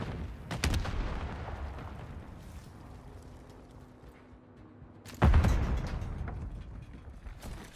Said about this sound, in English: Throwing grenade. Stun grenade out.